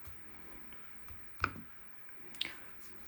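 Apple Magic Keyboard trackpad for iPad Pro and iPad Air being pressed: two crisp, quiet clicks about a second apart, close to the mic over a soft, hushed background with no voices.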